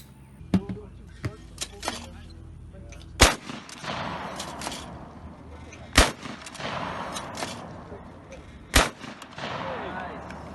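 Sharp gunshots ring out at an outdoor shooting range, with three loud cracks several seconds apart among smaller pops and clicks, and faint background voices.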